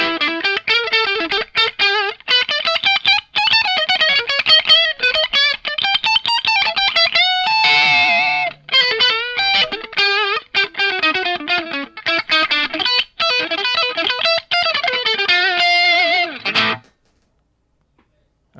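An electric guitar played through a Victory Karken preamp pedal on a distorted classic rock channel, loud sustained chords and riffs with a brief noisy squeal midway, stopping abruptly before a short silence.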